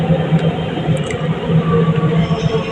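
A Namo Bharat regional rail train between Delhi and Meerut runs at moderate speed, giving a loud, continuous rumble with a steady hum and faint wheel squeals from inside or close by.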